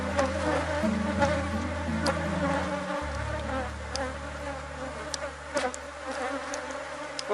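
Honey bees buzz steadily around an open beehive during a swarm division, a dense insect drone at close range with a deeper hum cutting off partway through and occasional sharp clicks and knocks from handling the frames.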